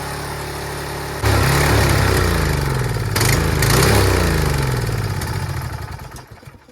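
A Troy-Bilt pressure washer's small gas engine runs its carburetor dry after the fuel is drained. It starts abruptly, holds a loud steady drone with some surging, then sputters and fades as it starves of fuel.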